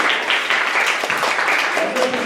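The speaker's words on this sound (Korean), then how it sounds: "큰 박수로 모시겠습니다" Audience applause welcoming a student speaker at a Korean-language speech contest, loud and steady clapping with a voice speaking over it toward the end.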